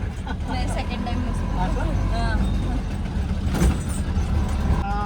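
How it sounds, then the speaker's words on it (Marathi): A car is driven through Indore city streets, heard from inside the back seat as a steady engine hum and road rumble under continuous talking. "काका गाडी चालवतोय."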